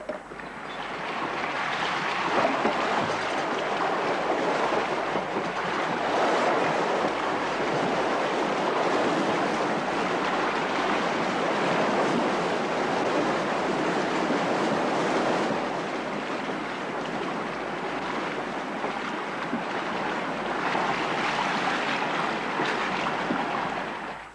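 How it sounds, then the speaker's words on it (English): River water rushes through opened eel trap hatches into a giant sieve, a steady broad roar of churning flow that holds loud and even, with wind buffeting the microphone. "the eel trap hatches are opened so that the water is fed into a giant colander"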